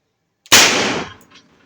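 A single loud, sharp shot from an Umarex .50 caliber self-defense gun, fired close into sheet metal, with a sudden crack and a fading ring.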